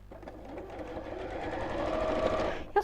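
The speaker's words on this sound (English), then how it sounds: "And just sew that right sides together." A domestic sewing machine runs steadily, stitching two pieces of fabric right sides together in a continuous close whir that builds slightly, then a brief clunk as it stops at the end.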